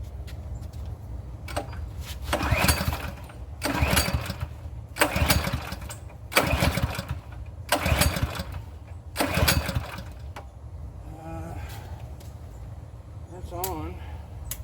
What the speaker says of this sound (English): I'm going to start it and let it run for just a second